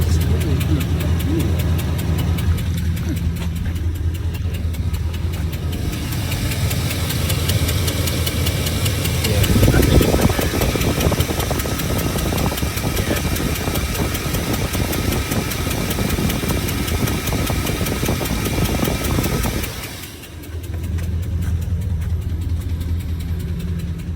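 A 4.8 LS V8 idles roughly with misfires, a loose exhaust piece rattling and shaking, loud and steady throughout with a lumpy, uneven knocking pulse that swells into a harsher burst near the middle.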